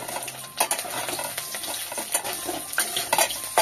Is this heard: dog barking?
no